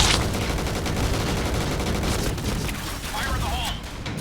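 An MX4 G gun firing in the online shooter Point Blank: loud, dense automatic fire pours out continuously, easing slightly after the halfway point while shots keep rattling on.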